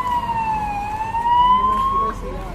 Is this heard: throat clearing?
no